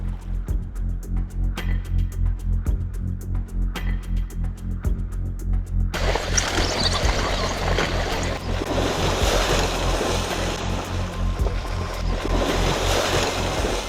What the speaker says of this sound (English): Water splashing in all directions